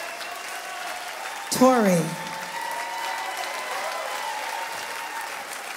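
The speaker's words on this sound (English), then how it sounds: "Give them a huge round of applause for singing all night long." Audience applause for a big band and its singers at a live concert in The Paramount theatre, a steady broad wash of clapping throughout, with a voice speaking briefly over it.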